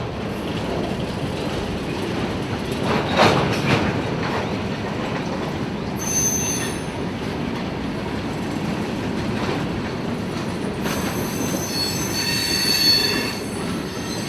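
A Norfolk Southern freight train street-running down the middle of 6th Street in Augusta, its wheels squealing in high, sustained bursts over a continuous rolling rumble of railcars, with no talk.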